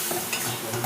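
Ground chilli, coriander and cumin with a splash of water being stir-fried for a bottle gourd and egg curry, with a brief, close sizzle and the scrape of stirring.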